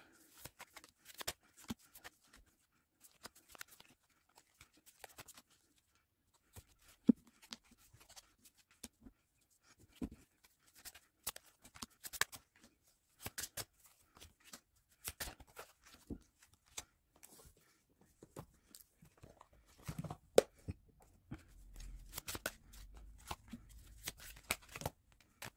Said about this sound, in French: on va commencer en mettant des cartes pour chacun de vos tas